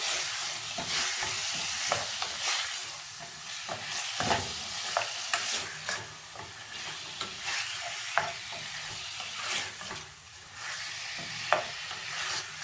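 Beef steak cubes browning in a hot pan for stew, with a continuous sizzle punctuated throughout by repeated scrapes and knocks of a stirring utensil, up close.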